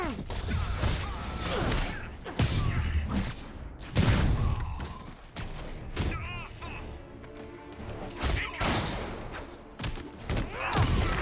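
Repeated sharp gunshots from snipers during a combat wave in Marvel's Spider-Man, loud cracks and thuds spread irregularly over dense game noise and music, with impacts and clatter between shots.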